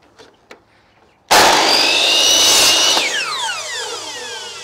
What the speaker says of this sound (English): I'll just cut a miter on one end of the bit of timber